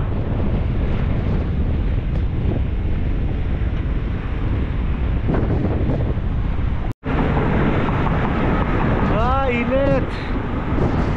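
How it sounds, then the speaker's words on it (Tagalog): Strong headwind roars and buffets the microphone continuously while cycling a 100 km solo loop on a hot, sunny day, with a brief dropout midway and a voice speaking faintly under the gusts. "Ang lakas din ng hangin, salubong na salubong."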